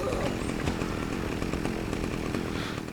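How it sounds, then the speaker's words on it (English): A chainsaw revs in the video game Saints Row 2, a steady, buzzing motor snarl running continuously for a few seconds at close range with no talk. "Get her a chainsaw, and then she's done."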